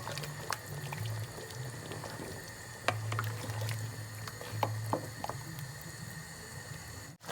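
Liquid pours into a pot of seafood and palm oil stew, a soft continuous bubbling and splashing with scattered small clinks, close and steady throughout.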